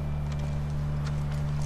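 A horse's hooves clip-clop in the video game The Last of Us, a brisk run of hoof strikes over a low steady hum of game ambience, moderately close and continuous throughout.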